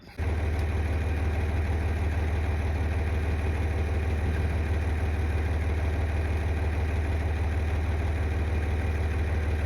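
A heavy diesel tractor engine idles close by, a steady low rumbling chug that starts abruptly and runs unchanged throughout.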